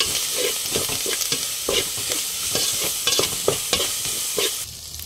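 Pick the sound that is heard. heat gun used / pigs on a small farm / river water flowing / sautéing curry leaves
sautéing curry leaves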